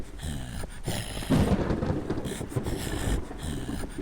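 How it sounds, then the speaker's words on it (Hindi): Heavy rain pours down outside with a low rumble of thunder, a steady dense wash of noise that swells briefly around the middle, with no talk over it. "एक तो इतनी तेज बारिश हो रही है बाहर"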